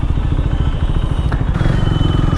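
KTM Duke 390 motorcycle ridden at night through city traffic, its engine a steady, close, continuous low thrum with a slight shift in tone partway through, no talk over it.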